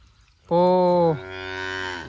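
A farm cow gives one loud, close moo lasting about a second and a half, a strong low call that shifts tone midway, with no voices.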